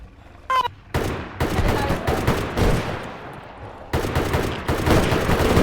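Video game gunfire bursts out in dense, rapid volleys, loud and close, broken by a brief pause before a second heavy barrage, with a short vocal sound at the start.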